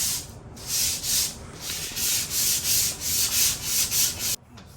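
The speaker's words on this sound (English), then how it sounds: "Sand this whole thing." Sandpaper rubbed in steady back-and-forth strokes over a rusty garage door during a repair, about eight rhythmic rasping passes, close and loud, stopping abruptly near the end.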